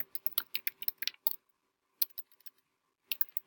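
Computer keyboard typing a chart title in Excel: quick bursts of crisp key clicks, a pause, then a few isolated taps and another rapid flurry, close and clear with no talking.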